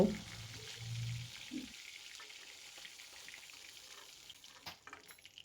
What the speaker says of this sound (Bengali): মাছের এক পিঠ লাল লাল করে ভাজা হয়ে গেছে